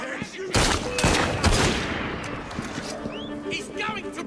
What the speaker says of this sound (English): Draw and shoot!